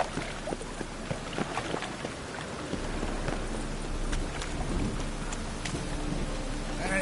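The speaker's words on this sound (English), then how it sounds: "And it's raining again." Steady rain patters across a scene in The Witcher video game, a dense, even wash of drops with scattered sharper taps, holding throughout and growing slightly fuller midway.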